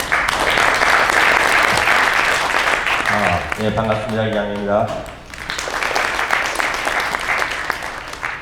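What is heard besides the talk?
audience applause welcoming a speaker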